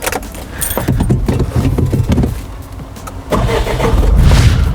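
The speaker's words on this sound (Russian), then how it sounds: "Берем наш ключ, центральный замок, кнопочка откр, закр," Keys jangle near a JAC N80 light truck, a key goes into the ignition, and the engine cranks and catches, then settles into a loud idle close by.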